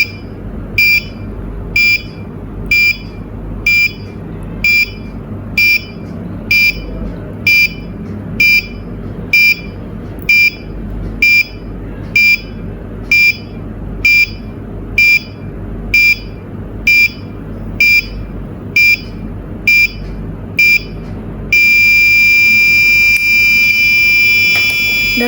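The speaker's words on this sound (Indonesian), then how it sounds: "buzzer menyala tanpa jeda" A piezo buzzer on an Arduino Uno R3 temperature and humidity sensor circuit beeps shrilly and loudly about once a second for a long run, then switches to an unbroken continuous tone when the temperature passes 32 °C.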